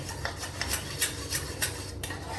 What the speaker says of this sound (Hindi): तो घोल लिया मैंने मैदा, ठीक से घोल लें, गांठें नहीं रहे।